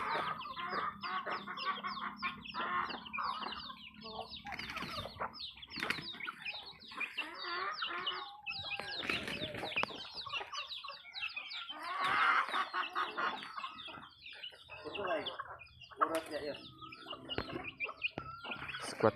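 Chickens cluck and squawk close by, with wings flapping in bursts among the busy, overlapping calls.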